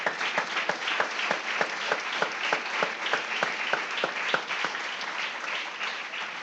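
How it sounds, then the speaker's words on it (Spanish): A church congregation claps in a steady, rhythmic beat, loud and continuous for several seconds with no talking. "Démosle un aplauso, Señor."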